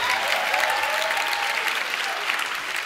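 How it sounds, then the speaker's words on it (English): A comedy show audience at the Edinburgh Fringe gives a steady, loud round of applause, with dense clapping sustained for a few seconds and no speech. "Round of applause for the calypso-obsessed man."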